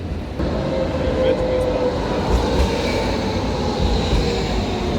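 A steady, loud rumble of a tram rolling past nearby in Croatia, with a faint high squeal of wheels on rails and continuous low mechanical noise throughout.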